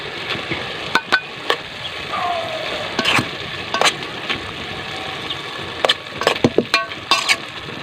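Puso ng saging, banana heart, being stirred with Century Tuna and oil in a frying pan, giving a steady sizzle broken by sharp spoon scrapes and clacks against the pan at an irregular pace.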